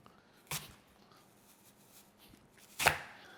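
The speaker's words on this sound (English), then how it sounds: "I'll chop these down just a little bit thinner so they're not as thick" Apples are chopped with a knife on a board in two sharp, close thuds about two seconds apart, with faint rustling between them in an otherwise quiet room.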